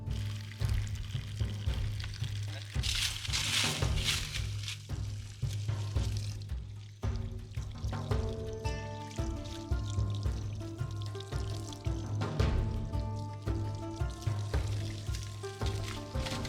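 Water pouring from a makeshift spout set up at a small forest river, a continuous close splashing stream with a steady low hum beneath it, and a few rhythmic tapping sounds in the later part.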